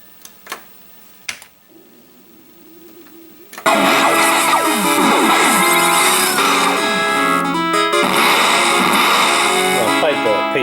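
Arcade cabinet low boy running Horizontal Game Elf: a few sharp clicks and a faint hum, then a credit sound kicks into loud, continuous game music and effects that play steadily to the end.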